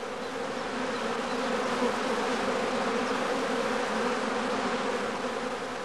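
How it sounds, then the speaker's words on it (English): A swarm of bees packs into a swarm catcher bag, making a dense, continuous buzzing drone that holds steady and close throughout. "As soon as the bees have contracted to a dense cluster at the top of the swarm catcher, they can easily be shaken out of the bag."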